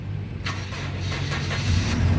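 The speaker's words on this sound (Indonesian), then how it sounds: "Sekarang kita coba start mobil ya." Engine of a 2008 Toyota Kijang Innova 2.0 V automatic being started, a short cranking burst that catches into a steady low idle rumble, close up with no talk.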